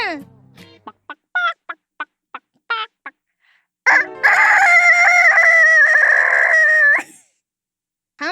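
A human voice imitates a hoarse rooster crow, one long strained cock-a-doodle-doo, after a string of short clicking sounds.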